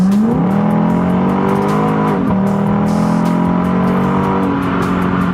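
Modified Lexus ISF with an automatic transmission, engine droning loud and close as it accelerates, with audible shifts that briefly drop and re-raise the revs.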